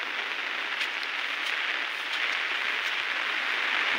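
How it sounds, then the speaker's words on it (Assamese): Heavy rain falls steadily over a banana plantation in strong wind, a dense, continuous hiss at even loudness throughout, with no voices. "আজি বহুত বৰষুণ পৰি আছে"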